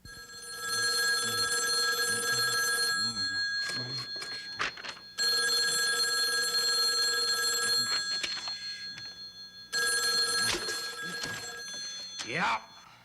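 An old-style telephone bell rings loudly in three long bursts separated by pauses, with voices speaking between the rings.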